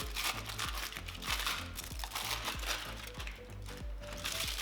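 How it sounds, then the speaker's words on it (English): The foil wrapper of a Lindt 70% cocoa dark chocolate bar crinkling as it is handled, a steady, close rustling with repeated crisp crackles. "The packaging on it. Some foil."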